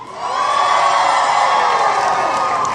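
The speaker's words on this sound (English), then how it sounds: "Every time you get a point, I want you to scream, shout, make some noise." Crowd at a SeaWorld San Antonio lumberjack show screaming, whooping and cheering for a scored point, a loud sustained roar of many voices that swells up and holds steady.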